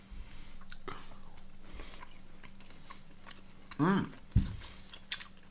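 Someone chews a salami meat stick from a keto snack box, wet crunchy bites close to the mic, with a brief murmur of approval and a steady electrical hum underneath.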